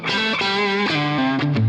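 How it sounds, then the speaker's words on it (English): Overdriven electric guitar played through a Walrus Audio Mira optical compressor pedal, a loud sustained lead line of held, gliding notes with steady, evened-out level and no talking. "Now let's try it with some overdriven tones."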